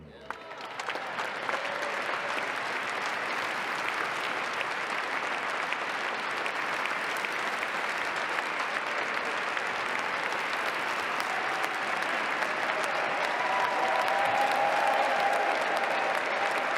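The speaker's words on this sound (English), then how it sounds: "Biggest cheer so far." Large outdoor crowd at a presidential inauguration in Washington cheering and applauding loudly and continuously, a dense sustained roar of clapping and shouts that swells slightly toward the end.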